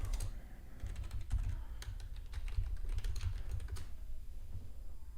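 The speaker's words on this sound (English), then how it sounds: "the typing you hear is just me making the alerts to the room" Rapid, steady keystrokes on a computer keyboard in a quiet room during a live day-trading session, clicking continuously close to the microphone over a low background hum.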